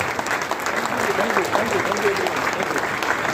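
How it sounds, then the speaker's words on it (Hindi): Sustained audience applause at a business event in Mumbai honouring a doctor, a dense, loud wash of many hands clapping continuously with crowd noise mixed in and no pauses. "एक जबरदस्त ताली होनी चाहिए"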